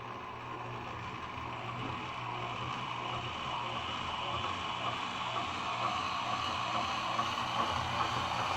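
Honey extractor drum spinning out honey, a steady low mechanical hum and whir with a constant droning tone, close and even throughout.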